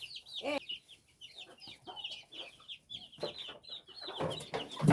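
Chickens cluck close by beside a wood-fired clay stove used for making flatbread, a run of quick repeated clucks and squawks with some faint background clatter and low murmurs.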